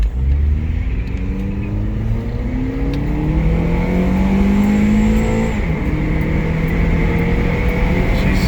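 A 2010 Acura TSX with about 177,000 miles revs under full throttle, a loud, close engine roar climbing steadily in pitch, easing briefly and then holding, with no talk over it.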